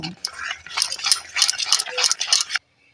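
A whisk beats gram flour batter mixed with black cumin in a bowl, making quick, rhythmic scraping clatters that are close and fairly loud before stopping abruptly.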